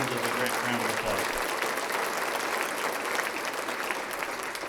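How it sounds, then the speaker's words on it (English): A large audience at an economic development annual meeting claps in sustained, dense applause for the full length, with a few low voices briefly audible at the start. "So let's give those 4 important businesses a great round of applause."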